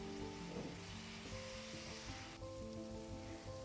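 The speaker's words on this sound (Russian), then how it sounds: "Грибы отправляем в сковородку и готовим 5-7 минут." Mushrooms fry in a pan with a steady, loud sizzle and crackle that runs throughout, with light stirring noises and no voices.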